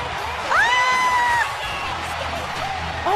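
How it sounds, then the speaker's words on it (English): A Monday Night Raw wrestling audience roars loudly, a rising whoop cutting through the steady crowd noise partway through before it settles back into an excited hum. "Oh my God, I've never heard the audience more high."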